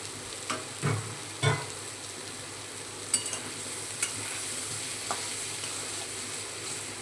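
Paneer chatpati being stirred in a pan over a low gas flame, with a few soft scraping strokes early on and faint sizzling beneath, then sparse light clicks of the utensil against the pan.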